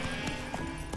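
Horse hooves clip-clop in the video game The Witcher 3, a few quick muffled hoof beats over a busy game background in a brief moment.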